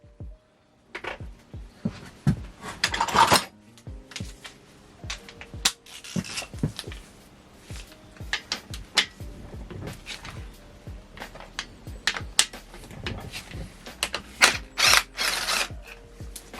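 A ratchet clicks in repeated quick bursts as it works on the tight 13mm tensioner bolts of a Fiesta MK5 Zetec S Zetec engine during a rebuild, close and alone with short pauses between strokes.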